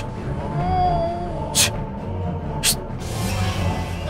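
A cat gives a drawn-out meow in a scene from the Indian TV comedy Taarak Mehta Ka Ooltah Chashmah, heard over a steady background hum with a couple of short bright noises.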